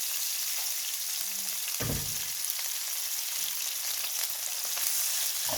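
Garlic and onion fry in a pan with a soft, steady sizzle, broken by a few brief stirring knocks, heard fairly close with no voices.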